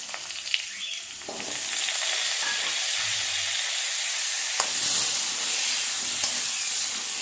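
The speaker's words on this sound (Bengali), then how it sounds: "সর্ষে ভাজা হয়ে গেছে, আমগুলো দিয়ে দেবো।" Thin green mango slices are dropped into hot mustard oil with popping mustard seeds for a raw mango chutney, setting off a steady, loud sizzle and hiss that holds throughout with a few faint clicks.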